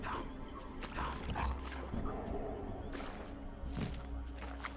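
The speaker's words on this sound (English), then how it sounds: "Dog with a blade on its front." A dog creature with a blade on its front barks and yips in the Soul Reaver 2 Remastered video game, several sharp yelps and whimpers over a busy game soundscape.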